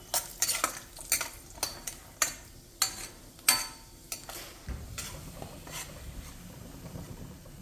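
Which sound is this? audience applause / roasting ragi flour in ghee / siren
roasting ragi flour in ghee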